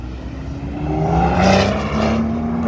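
A Porsche sports car accelerates hard at a car meet, its engine note rising and swelling into a loud, near roar that holds briefly before easing slightly.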